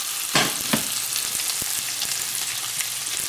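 Italian meatballs sizzle steadily in swirled olive oil, a dense continuous frying hiss with a few sharper pops and crackles near the start, close and fairly loud, no voices.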